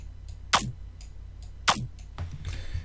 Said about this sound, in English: very short and snappy bass.